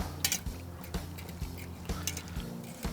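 Jalapenos being stirred in a pan for smoked pork tenderloin sliders, with repeated soft clinks and scrapes of a utensil against the pan in a steady mixing rhythm, close and fairly quiet.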